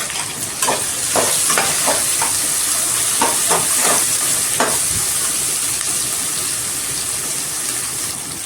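Curry leaves, garlic, ginger and crushed shallots frying in oil in a pot, giving a steady, loud sizzle with bursts of crackling and occasional stirring.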